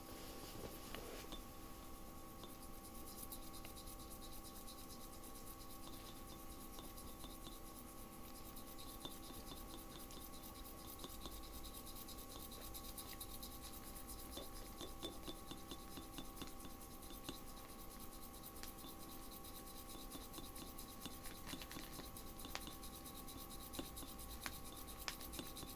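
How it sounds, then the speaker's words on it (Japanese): Five-yen coin rubbed in a citric acid solution, a continuous faint scratchy rubbing heard up close without pause. "クエン酸の中でこすってるだけでどれくらい変わるんだろう"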